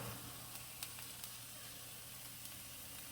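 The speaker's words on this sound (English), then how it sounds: "Oh, sausage smells so good, y'all cooking, doesn't it?" Sausage sizzles steadily in a hot pan, a continuous hissing fry broken by a few brief pops and crackles, close and even throughout with no one talking.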